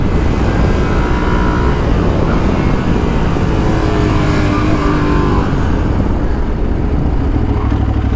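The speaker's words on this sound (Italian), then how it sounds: "assai particolare sto motore, perché ti aspetteresti un tiro un po' più in basso, invece tira molto in alto per essere un bicilindrico" Aprilia Tuareg 660 2023 twin-cylinder motorcycle engine revving hard as the bike accelerates, a loud, close, continuous roar held steady throughout with no voices.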